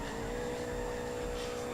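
A Nissan 240 SX engine in GTA 4 holds a steady, close, continuous hum at an even pitch for a short stretch, with no voices over it.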